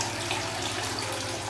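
Water pours steadily from a koi pond waterfall, a dense continuous splashing rush heard close and alone without any voices.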